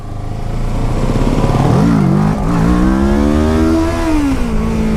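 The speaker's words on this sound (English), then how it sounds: "A horrible wheelie." A sport motorcycle engine revs hard during a wheelie on an entry-level sport bike, its steady drone climbing and dipping in pitch over several seconds, loud and close with no talking.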